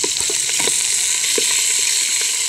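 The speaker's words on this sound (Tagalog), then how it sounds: "Aba, nasusunog ang kaldero." Food fries and sizzles steadily in a burning pot, with intermittent scraping taps of stirring over the constant hiss, close and continuous, no voices.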